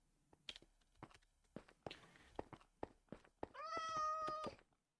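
A cat meows in Minecraft with the Cobblemon mod, one drawn-out tonal meow near the end after a run of light rhythmic footstep clicks across a mesa biome, heard alone without talk.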